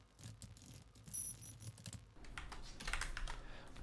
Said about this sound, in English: let me type this out